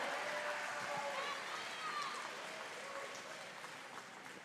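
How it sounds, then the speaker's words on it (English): An ice show audience in a large rink applauds, a broad wash of clapping that fades gradually as it goes on, with faint tonal sounds of music or the arena drifting through. "Big round of applause, folks"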